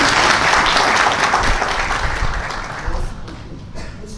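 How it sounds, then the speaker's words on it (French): Applause from a conference audience at an international microbiology event, a loud, dense wash of clapping that carries strongly at first and then gradually thins and softens toward the end. "Qu'on applaudisse encore pour KH Médical"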